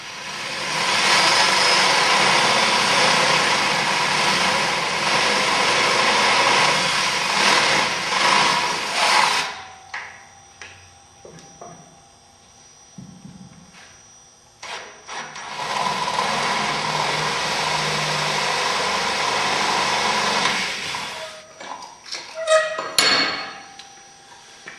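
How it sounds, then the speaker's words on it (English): A drill with a 5/8-inch bit boring holes into a metal snag plate in two long whining runs, separated by a quieter pause with knocks and clanks, ending with sharp metallic taps. "now we've got our 5/8 holes drilled throughout"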